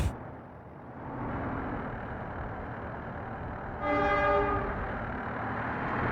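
A train in the city-building game Workers & Resources: Soviet Republic rumbles steadily, and a loud horn blast sounds partway through before the rolling noise carries on.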